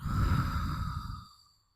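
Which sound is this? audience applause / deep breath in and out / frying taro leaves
deep breath in and out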